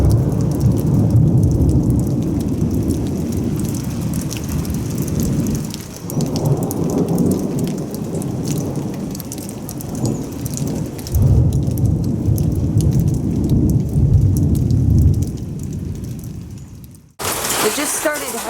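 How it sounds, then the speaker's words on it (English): Heavy rain and hail pour down loudly and steadily during a storm at a lake campsite, a dense, hissing roar, briefly cutting off near the end before resuming. "we've got heavy rain and hail now."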